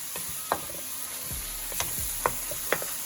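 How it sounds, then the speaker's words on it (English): Kale cooking down in a pan is stirred, with a steady low sizzle under a few sharp scraping clicks of the utensil spaced about a second apart, fairly quiet and close. "All right, so I'm just gonna stir it."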